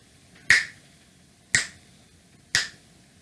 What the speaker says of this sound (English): I just want to do a little snapping test by your ears